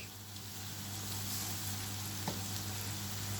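Giant eggplant sizzling steadily in hot oil in a pan, a continuous close crackle and hiss with one faint utensil tap.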